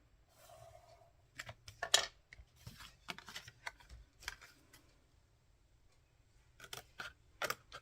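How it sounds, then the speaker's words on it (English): Scissors snip paper while an envelope is made by hand, a series of crisp, close cuts in short clusters with brief quiet gaps between them. "And then I'm just going to snip it from the corner."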